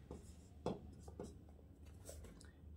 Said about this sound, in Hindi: क्वेश्चन लिखेंगे।